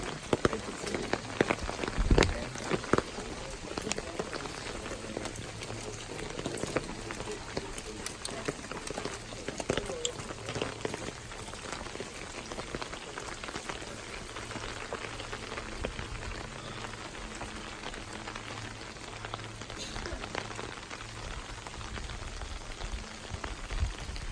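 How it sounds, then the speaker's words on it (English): Rain falls steadily during a hike at the ancient city of Dan in Israel, a continuous patter on surfaces with a few louder drips near the start, while people talk quietly underneath. "I guess we couldn't have a hike in the rain"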